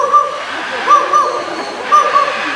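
A bird at Jurong Bird Park mimics a dog barking, giving three short, bright, yapping calls spaced about a second apart over quiet outdoor background.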